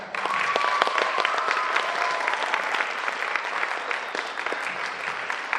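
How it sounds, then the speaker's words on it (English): An audience gives a sustained round of applause for parents and teachers at a spring school dance company recital, dense clapping filling the room at steady loudness throughout. "can we give them a round of applause?"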